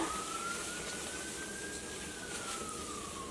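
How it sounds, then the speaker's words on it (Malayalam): A distant ambulance siren wails faintly outside during home cooking, its pitch gliding up and then down as it passes behind steady background noise. "ഇവിടെ ഒരു ആംബുലൻസ് പോകുന്നുണ്ട്"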